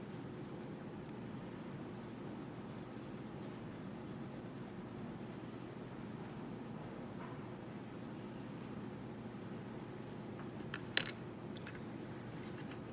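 Colored pencil shading on paper for a blind contour drawing, a continuous soft scratchy rub held at a steady level for many seconds, close and quiet, with one brief sharper tick near the end.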